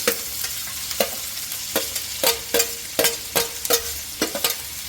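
Onions sizzle in hot oil with cinnamon, bay leaf and shahi jeera for gongura chicken curry, a steady frying hiss broken by about ten regular scraping stirs of a spatula against the pan, close and clear with no talk.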